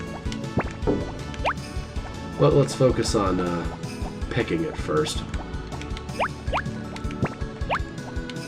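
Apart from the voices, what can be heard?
watering crops in video game Harvest Moon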